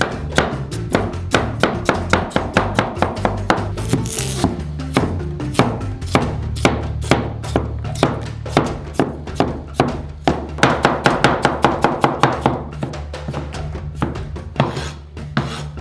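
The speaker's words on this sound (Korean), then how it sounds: "깨끗해진 감자를 조각으로 자르고" A knife chops through boiled-type potatoes on a cutting board in a steady series of close, crisp thunks, speeding into a rapid cluster near the end.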